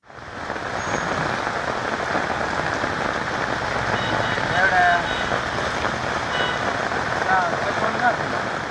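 Heavy rain pours steadily onto surfaces, a dense continuous patter at close range throughout.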